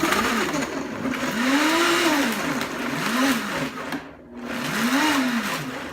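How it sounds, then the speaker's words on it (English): A blender motor whirs in repeated pulses, its pitch swooping up and down as it purees tomatoes, with a brief pause near the end. "Let's just stick them in the blender."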